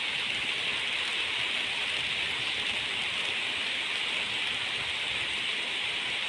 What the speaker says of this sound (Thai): ฝนมันตกเข้าไปถึงข้างในนู้นเลยเด้เนี่ย ฝนมันสาดเข้าไป